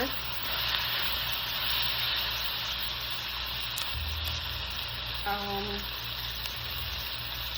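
Tofu and vegetables sizzle and fry in a pan while being stirred, a continuous hiss with occasional scraping and clinks of the utensil against the pan.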